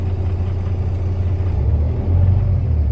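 Steady, loud, low diesel rumble from the running engine of a 2020 Kenworth T880 triaxle truck, heard up close at a smooth, even pitch, rising a little near the end, with no voices.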